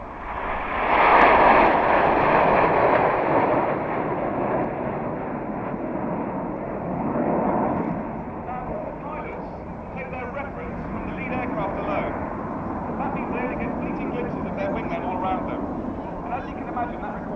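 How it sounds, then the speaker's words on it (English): Red Arrows jet aircraft sweeping past at the 2009 Cosford Airshow, a loud roaring rush that swells early and then settles into a sustained, slowly fading rumble as the formation passes. "So you hear them tightening in the bend there, with the smoke coming on as they fly past us in beautiful Concord."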